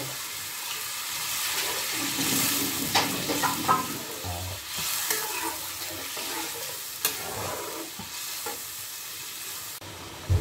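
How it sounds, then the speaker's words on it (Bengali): Egg and cauliflower curry gravy bubbling and simmering in a pan, a steady sizzling boil with occasional stirring knocks and scrapes, close and fairly loud throughout with no talking. "দেখুন ঝোলটা ফুটে উঠেছে"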